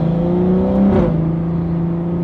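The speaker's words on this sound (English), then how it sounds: "You hear a lot of like turbo and a ton of sucking noise" A BMW F30 with an XHP transmission tune runs under load, a steady engine drone with turbo whoosh and intake sucking, and a brief surge where a quick gear shift passes.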